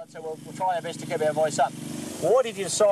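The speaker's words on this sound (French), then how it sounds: "avec les moteurs qui tournent, on va probablement avoir un problème de son" Engines running as a steady low drone beneath close, continuous conversation, the talk dominating and the engine hum persisting underneath throughout.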